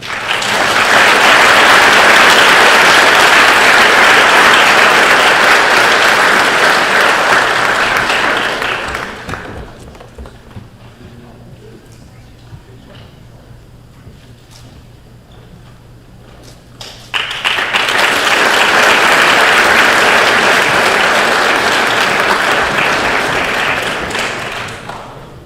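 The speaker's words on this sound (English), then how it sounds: "has to be the most clapped night in Diamond history" At a school awards night a crowd claps loudly for a long stretch. The applause fades to a quiet gap and then swells again into another sustained round.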